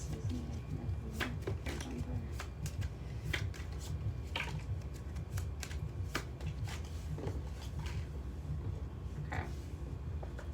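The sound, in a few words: shuffling oracle cards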